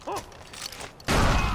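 A grenade goes off in the Far Cry 4 video game, a sudden loud, broad blast about a second in that holds as a dense rumble to the end, after a short stretch of quieter game sound with a brief tonal chirp.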